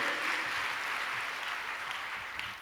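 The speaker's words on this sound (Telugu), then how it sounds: "చప్పట్లు కొట్టుకోండి" A congregation applauds during a Telugu Christian sermon, producing a faint, steady wash of clapping that lasts the whole moment without any talking over it.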